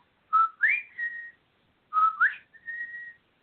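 Someone whistles in imitation of birdsong during an ayahuasca ceremony, giving two short, clear phrases of rising and sliding notes with a pause between them.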